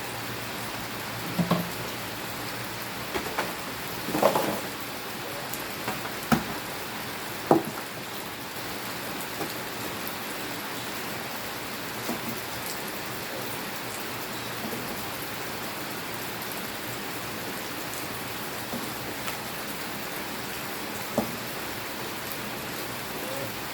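Steady rain falls at a rural home beside an abandoned pond, a dense continuous hiss with a few louder drips and taps scattered through it, no voices.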